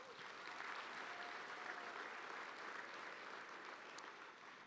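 A large audience at a county education event gives a steady, sustained round of applause that fills the whole stretch at even loudness, with no talking over it.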